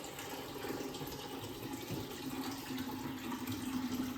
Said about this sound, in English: just as we dump the water out of this